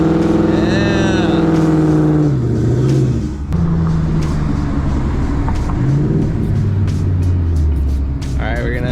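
An Infiniti G37 car on cold tires roars loudly up close, its engine revving and pitch rising and falling as it slides, with people talking over the steady engine drone.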